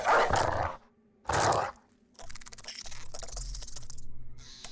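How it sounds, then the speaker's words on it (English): A war dog being released in the medieval tactics game Battle Brothers gives two loud, close barks in quick succession, followed by quieter clicking and rustling. "Now we will release a dog."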